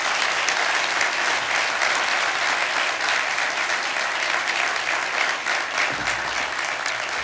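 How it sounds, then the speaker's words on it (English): An audience at a city's State of the Address gives sustained applause for first responders, with dense, steady clapping filling the whole stretch and no talking. "Let's give our first responders who routinely risk their lives for us a special round of applause."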